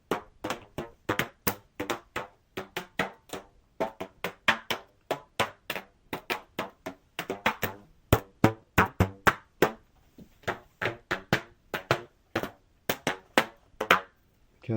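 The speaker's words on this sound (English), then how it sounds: "so rubber band." A rubber band is worked right at a Finalace AudioWow B2 3D binaural Bluetooth microphone, giving a long run of sharp, dry snaps and taps in an uneven rhythm, very close and alone.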